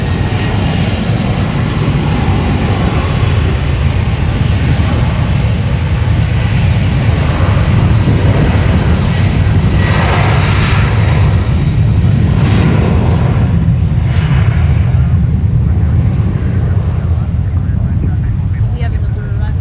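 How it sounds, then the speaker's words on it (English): A Southwest jet, Flight 2788 bound for Chicago Midway, takes off at Fort Lauderdale airport with a loud, steady engine roar that holds throughout, while people talk over it. "the aircraft we're taking off is Flight 2788 for Southwest"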